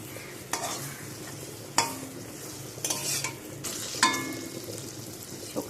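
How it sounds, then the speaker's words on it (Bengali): Flour-and-potato snack pieces frying in hot oil, a steady close sizzle broken by several louder bursts as pieces are turned or stirred, with no talking. "এটাকে আমি তেল দিয়ে ভেজে নেবো"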